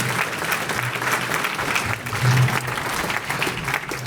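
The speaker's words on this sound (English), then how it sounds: "So a round of applause for the Burr Elementary." Applause from an outdoor crowd at a city Veterans Day observance, honoring elementary school students, a steady wash of clapping with a low hum underneath, moderately close and continuous.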